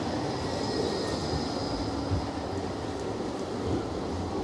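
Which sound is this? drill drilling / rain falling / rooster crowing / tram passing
tram passing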